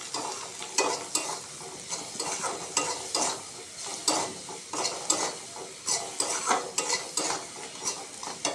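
Fish curry seasoned with salt and turmeric powder being stirred in a pan, with a steady run of scraping strokes over a soft sizzle, close and moderately loud, no voices.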